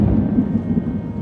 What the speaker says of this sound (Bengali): দেখেছেন কীরকম মেঘ ডাকছে